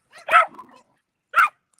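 Two sharp dog barks, close and loud, separated by a brief pause, the first followed by a softer whine.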